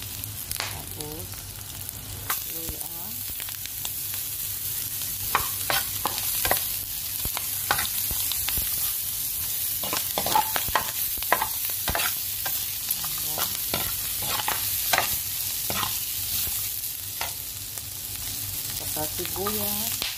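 Garlic sizzling steadily in a hot pan while a utensil scrapes and taps against it in frequent irregular strokes, close and continuous, with a brief voice at the start.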